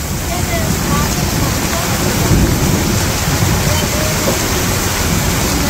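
Heavy rain falls during a thunderstorm, making a loud, dense, unbroken roar that stays constant throughout.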